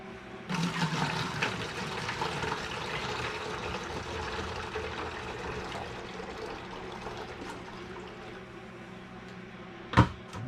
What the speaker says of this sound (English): I will pour this other juice in the gallon jug